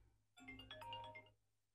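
An Apple phone rings once with a short bright chime melody, faint and alone against a low background hum.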